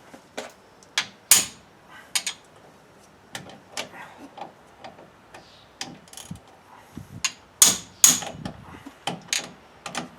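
Sharp metallic smacks from a hammer striking a ratchet on the brakes of a 2004 GMC Sierra 1500, coming in irregular bursts of close, ringing hits with brief pauses between.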